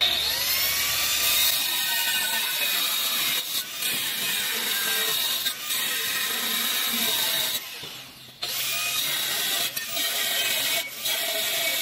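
A diamond cutting blade slices through aluminum with a loud, continuous high-pitched whine and grinding, broken by a few short dips as the cut pauses.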